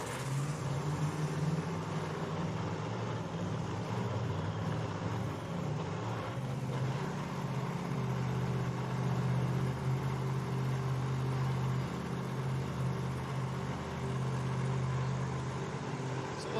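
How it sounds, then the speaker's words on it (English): A supercharged, alcohol-fueled 1991 Mustang Pro 275 drag racing car doing a burnout in the right lane at a drag strip, with a loud, sustained engine roar that holds steady and then deepens and intensifies partway through, with continuous tire and crowd noise. "the supercharged machine of Moore here in the right lane burns out"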